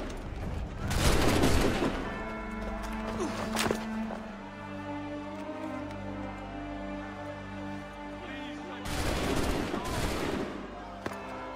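Musket volleys in Assassin's Creed 3 erupt as two dense clusters of near gunfire, one early and one late, separated by a quieter stretch of sustained game music and ambience.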